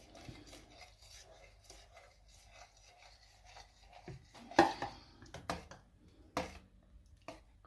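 A pot of tapioca starch mixture, likely for tao suan fruit dessert, is stirred just off the boil, giving steady scraping and rubbing with spoon clinks. A few sharper knocks against the pot come near the end, with no talking.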